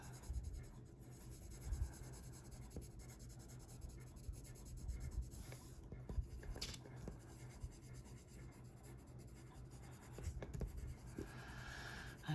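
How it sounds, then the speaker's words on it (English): Colored pencil strokes on paper along the page edge during a greyscale coloring session, a steady close scratching and rubbing that continues throughout with small louder bursts and no talking. "coloring on the edge of the paper is a pain"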